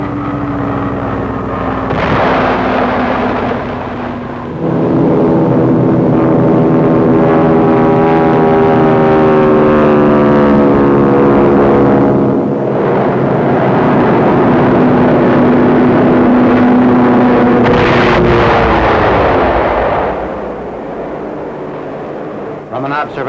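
WWII Thunderbolt fighters and RAF bombers attack Fort Dufferin in Mandalay in March 1945. Their engines drone loud and continuous, rising and falling in pitch, while a narrator speaks over the roar.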